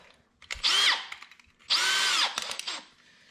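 A power drill bores a 1/8 inch hole into a kayak hull in two short bursts, its motor pitch rising and falling with each pull of the trigger, close up and loud.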